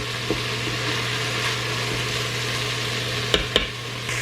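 Onion sautés in a hot pan for a white rice dish, a continuous crackling sizzle over a low steady hum, with a couple of sharp utensil clacks near the end.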